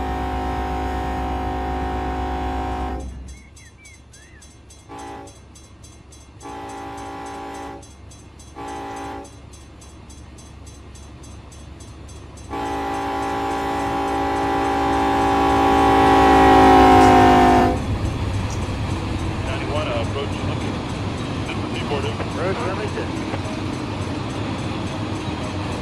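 Diesel locomotive horn in Run 8 Train Simulator sounding the long-long-short-long pattern at a whistle board: two long blasts, two short ones, then a long swelling blast over the steady rumble of the engine and train.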